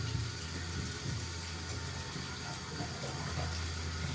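Cold water pours into a pan of curdling milk while making rasabali, a steady rushing flow running throughout, close and fairly loud with no talk.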